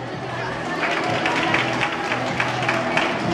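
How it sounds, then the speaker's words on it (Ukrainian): Audience applause at a dance festival award ceremony: a steady, dense wash of many hands clapping, sustained and fairly loud across the whole stretch, with a crowd murmur beneath. "Ваші оплески."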